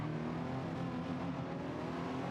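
Race car in a Nürburgring GP endurance racing video game, passing a slower car on a wet track: a steady, droning engine whine held at high revs, moderately loud and continuous.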